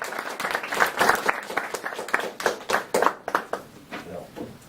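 Audience applause at a poetry reading event, moderately distant clapping that swells and then thins into scattered individual claps before fading.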